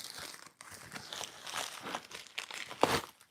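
Packing tape and wrapping on a taped-up parcel crinkle and tear in quick, irregular bursts for a few seconds, close and fairly quiet, with one sharper rip near the end.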